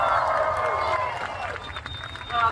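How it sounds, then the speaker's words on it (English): Audience at a Deadpool story time event cheering and clapping, a steady crowd wash at moderate level that fades slightly midway and swells again at the end, with a voice talking over it. "you guys can cheer louder than that"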